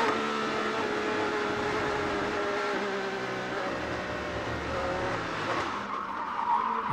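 An IndyCar race car on slick tires circles a wet, rain-soaked track at Indianapolis Motor Speedway, its engine a sustained whining roar with hissing spray and tire noise, steady and fairly close throughout.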